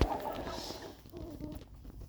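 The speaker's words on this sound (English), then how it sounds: "We're keeping alive like a flock of like 50 wild birds." A flock of about fifty wild birds gathers near a water source by a cheap Mustang, with soft clucking and chirping calls scattered over a noisy outdoor background.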